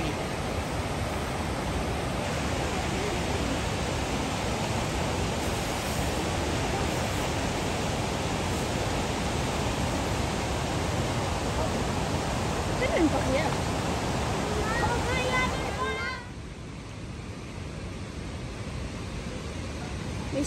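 The waterfalls at Rawdon in Quebec give a dense, constant rushing roar that fills the whole stretch. It drops slightly in level near the end, and faint voices briefly surface under the noise.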